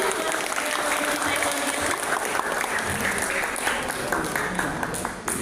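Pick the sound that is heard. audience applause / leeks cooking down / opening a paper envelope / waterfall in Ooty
audience applause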